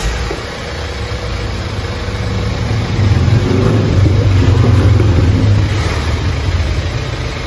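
A BMW E90 3 Series with the N47 2.0 diesel engine idles, a loud, low, steady rumble that swells slightly partway through and then holds even. No one speaks.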